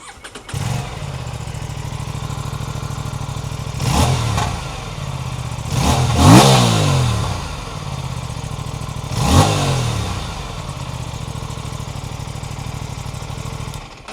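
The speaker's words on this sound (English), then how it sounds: "Now it's time to compare how these two motorcycles sound. Let's start with the Tuono." An Aprilia Tuono 457 motorcycle engine starts and holds a steady, loud idle. The engine is blipped into three sharp revs, with the second rev the longest, before it settles back to idle.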